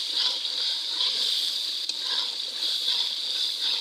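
Cloves, cardamom and cinnamon sautéing in hot oil over a clay stove, giving a steady close-up sizzle and hiss with faint stirring crackles.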